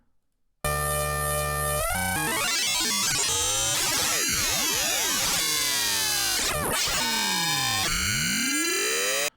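Dense, harsh synthesizer noise from a techno texture patch with an envelope modulating the LFO rate, sweeping, bending tones and buzzing harmonics churning continuously, loud and unbroken after a brief silent start.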